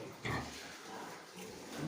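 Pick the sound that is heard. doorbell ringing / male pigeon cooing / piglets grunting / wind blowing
piglets grunting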